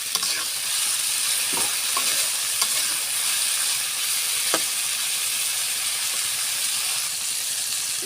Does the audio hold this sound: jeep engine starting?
no